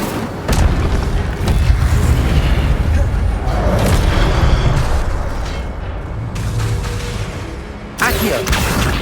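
An Incendio fire spell is cast in Hogwarts Legacy, giving a loud, continuous roaring blast with sharp bursts near the start and end.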